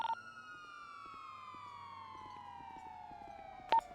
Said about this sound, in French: On va pouvoir éteindre les sirènes